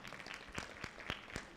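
An audience applauds a school chief principal at an alumni breakfast meeting, a short burst of scattered, moderately quiet clapping with a few sharper individual claps standing out.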